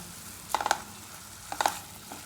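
Egg whites being stirred in a pan to coat them in chilli powder, heard as two short bursts of spatula scraping and clinking over a faint background sizzle.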